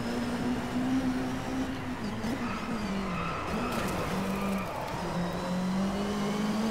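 A Caterham sports car races in the Driveclub video game, its engine revving loudly and steadily with pitch rising and dipping through gear changes and corners, while tires squeal in places.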